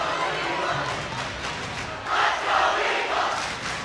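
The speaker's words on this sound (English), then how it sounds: "Mustang fans over there trying to cheer their team on to get the lead back." A high school basketball crowd of Mustang fans roars and chants to cheer their team on, a dense continuous din in a gym that swells louder partway through.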